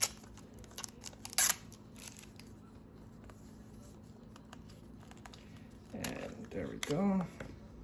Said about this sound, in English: we're just gonna peel this off, and then we're gonna pop in our batteries